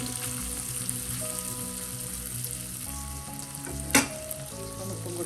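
Long beans (achinga payar) frying and being stirred in a pan, with a continuous close sizzle, soft scraping under it, and one sharp clink near the end.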